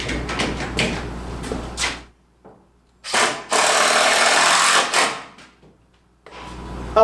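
A power drill drives small drywall screws down through OSB sheathing on basement shelving, with one long steady whir in the middle, shorter bursts of handling noise on either side and quiet gaps between.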